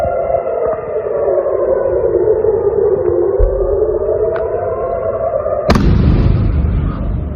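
An air raid siren wails loud and steady in Israel during missile attacks, a long sustained tone that slowly dips and rises, with a sudden heavy boom near the end and rumbling after.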